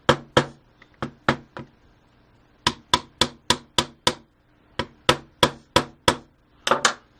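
A hammer taps a part down during disassembly of an Elite Force HK G36 airsoft rifle, giving sharp close knocks in irregular clusters with short pauses between groups, with no talk.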